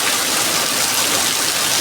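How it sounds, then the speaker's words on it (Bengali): Rain falls in a dense, even hiss that holds steady for the whole short stretch, loud and close, with no voices. "দেখো বৃষ্টি হচ্ছে, কত সুন্দর"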